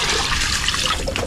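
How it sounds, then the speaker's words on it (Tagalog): Water pours into a cooking pot holding meat, a steady close splashing gush with bubbling trickles over the short span. "Lagyan natin ng tubig."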